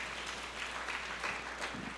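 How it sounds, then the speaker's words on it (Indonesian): A church congregation claps steadily through a sermon gathering, a dense continuous patter of applause at moderate distance with no voices standing out. "Yang setuju berikan tepuk tangan yang meriah buat Tuhan."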